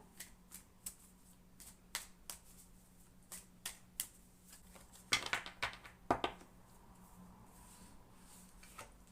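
Playing cards being handled up close: a series of soft flicks and slaps, then a quick riffling burst of shuffling, in a quiet room.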